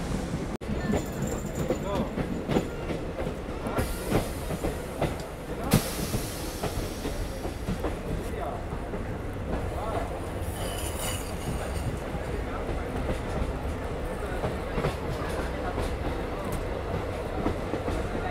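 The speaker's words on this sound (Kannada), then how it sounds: "ಇದು ಸದ್ಯಕ್ಕೆ ನಮ್ಮ ಈ ಡೆಮೋ ಟ್ರೈನ್ ರೀಚ್ ಆಗಿದೆ ಹಾಸನ್ ರೈಲ್ವೆ ಸ್ಟೇಷನ್ಗೆ" A DEMU passenger train on the Bengaluru–Hassan line rolls along the rails near Hassan station, a loud steady rumble with faint wheel clatter and brief high squeals throughout.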